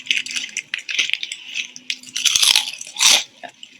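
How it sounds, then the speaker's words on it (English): Crunchy chips munched close up, loud crisp crunching bites and chewing in quick succession, the sharpest crunch near the end, alone without speech. "Crunchy, munching chips."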